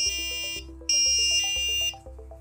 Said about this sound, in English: We've just made an ultrasonic alarm using an Arduino Uno, an ultrasonic sensor, and a buzzer.